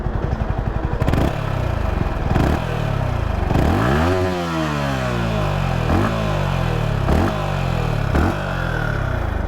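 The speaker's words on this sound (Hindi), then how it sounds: "आप इंजन की आवाज़ भी सुन सकते हैं, बिल्कुल साइलेंट इंजन आपको मिल रहा होता है। हल्का सा हम रेव कर देते हैं" A Yamaha MT-15 V2.0 naked street motorcycle revs loudly from idle, with repeated sharp throttle blips that climb and fall over a steady, close engine drone.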